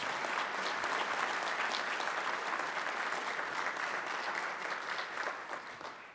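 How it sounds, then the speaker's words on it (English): Steady applause from an audience at a Fall River school committee meeting, a dense, even wash of clapping that holds for about six seconds and tapers slightly at the end. "give her a round of applause."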